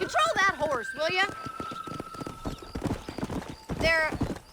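Horse hooves clip-clop in Red Dead Redemption, a run of quick hoof knocks beneath short bursts of voices, with a horse's whinny rising at the start and again near the end.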